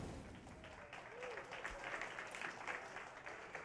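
Crowd applause at a CS:GO esports quarter-final at Northern Arena, a steady spread of clapping across the whole stretch with faint voices and a commentator's tone drifting underneath.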